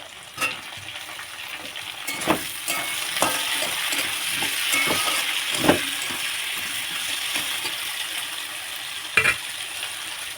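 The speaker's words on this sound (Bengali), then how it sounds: "এই দেখো আমার টমেটো আলু পেঁয়াজ সব ভাজা হয়ে গেছে" Tomatoes, potatoes and onions fry together in a pan, making a steady close sizzle. Scraping stirs and a few louder knocks against the pan come through in scattered bursts.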